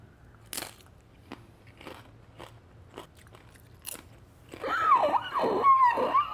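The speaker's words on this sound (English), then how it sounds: "So I have some nice crunchy tortilla chips here." Several sharp crunches of someone biting into crisp tortilla chips dipped in salsa, spaced apart, then louder chewing crackles toward the end, close up with no talking.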